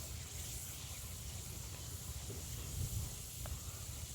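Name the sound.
spice paste added to hot oil, sizzling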